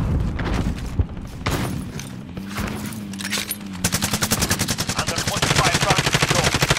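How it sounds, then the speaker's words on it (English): Gunfire rings out in a final-circle quads battle royale video game match: a loud, rapid, repeated string of shots that grows denser and steadier toward the end, with players talking over the opening moments. "Oh, someone's sniping."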